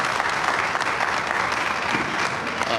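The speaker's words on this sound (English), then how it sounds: "give this Redan High School band another round of applause" An audience claps steadily for a high school band at a county government event, a dense, even wash of applause from a crowd sustained throughout.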